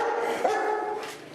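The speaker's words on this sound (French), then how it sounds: "L'équipe cynophile a fait les premiers repérages et leur chien Gus a déjà signalé une nouvelle victime." A search and rescue dog barks during a full-scale earthquake rescue exercise with firefighters, a short yelp heard at moderate distance over steady background noise.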